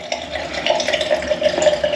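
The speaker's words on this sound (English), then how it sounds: "A bit of water on the old face, and here we go." Water splashed onto the face during a wet shave, close running and splashing water with rhythmic dribbles, loud and continuous for a couple of seconds without speech.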